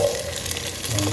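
Garlic dropped into hot oil for a fish curry gives a dense, close sizzle, steady and unbroken over a short moment, with no speech.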